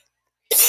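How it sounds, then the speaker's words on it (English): A single short, close cough bursts out suddenly after a moment of silence, cut off almost as soon as it starts. "I know you're used to the coughing by now."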